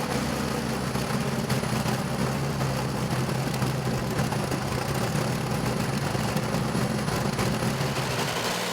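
A Truck Power pulling tractor with a V12 Transmash engine converted from diesel to alcohol roars at a steady, loud, sustained pitch throughout a tractor pulling event.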